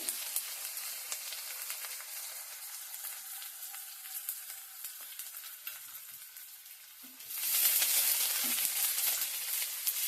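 Chopped onion frying in hot oil with cumin and mustard seeds for banana flower palya, a steady close sizzle that swells noticeably louder and brighter near the end as more goes into the pan.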